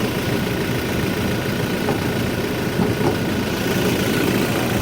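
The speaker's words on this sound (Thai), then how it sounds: "เดี๋ยวจะเสียงดังนิดนึงนะครับ เดี๋ยวขออนุญาต ดับเครื่องก่อนแล้วกันเนาะ" A 2019 Toyota Fortuner 2.4V diesel SUV with automatic transmission idles steadily nearby, a constant low engine rumble with faint vibration and no talking.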